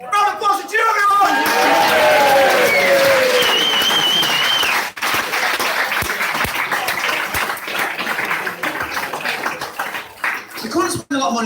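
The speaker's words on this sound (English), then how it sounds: "Round of applause to you, everyone!" Audience at a live comedy show breaks into loud, sustained applause that fills the room for several seconds, then thins out as a voice carries on over scattered clapping and crowd murmur.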